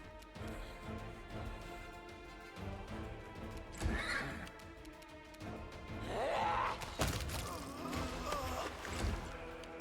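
A horse in the video game Pathfinder whinnies loudly a couple of times, mixed with clopping hooves and other clattering game sounds.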